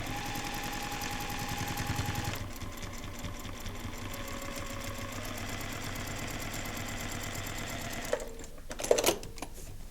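A sewing machine stitches a paper-pieced quilt block, whirring steadily and close for several seconds, then slowing and stopping, followed by a few brief handling clicks.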